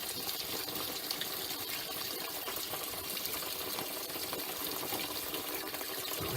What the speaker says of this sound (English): Now that's going through the pump and flushing out the vodka.